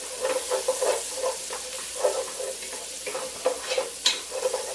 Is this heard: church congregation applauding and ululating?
no